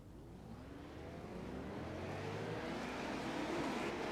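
Race cars in the iRacing video game pull away together at the start of a Legends heat race at USA International Speedway, a steady engine roar that swells and builds louder over several seconds with no talking.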